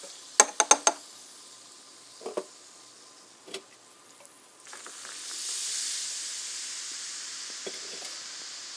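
A spoon clinks several times against a glass while stirring a carbonated maple hot chocolate cherry drink, followed by a soft, rising fizz of bubbles that lingers quietly with a few light taps.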